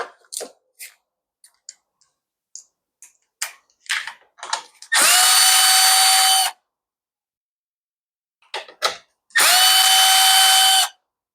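A power tool loosening fasteners while the carburetor is taken off a motorcycle, with two loud, sustained whirring bursts of a second or two each, close by, between light clicks and handling of parts.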